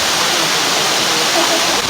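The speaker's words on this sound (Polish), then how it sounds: "Doszliśmy do celu podróży, czyli do wodospadu." Steady, dense roar of a waterfall, broadband and constant throughout with no breaks, close and loud.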